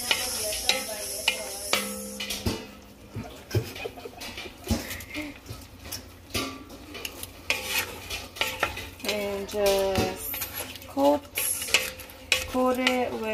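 Shrimp go into a pan with butter and garlic, with scraping and clinking of a utensil against the pan, irregular stirring clatter and a faint sizzle underneath, while a voice speaks briefly.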